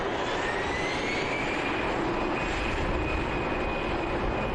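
Steady broadband roar of jet engines from a Hainan Airlines Airbus A330 at Manchester Airport, continuous and fairly loud throughout with a faint rising whine, no talk.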